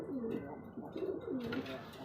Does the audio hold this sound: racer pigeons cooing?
yes